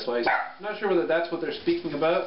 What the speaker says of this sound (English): Apologize for the dog.